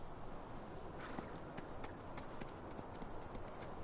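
Horse hooves clip-clopping in the Farming Simulator 19 video game, a faint steady run of light hoof clops over a soft background hiss, with no talking.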